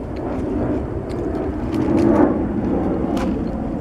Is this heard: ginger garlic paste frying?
no